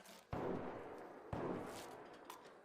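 Two heavy sniper gunshot-like blasts ring out about a second apart in the video game Arc Raiders, each followed by a rumbling decay, fairly faint overall.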